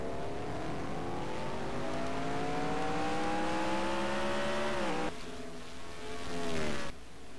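Race car engine in a racing video game, NNSCRA Castrol GTX Cup Series, revving steadily and loudly, then dropping pitch through downshifts from third to first gear into a turn before climbing again, no talk.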